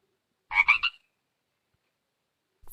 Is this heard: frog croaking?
yes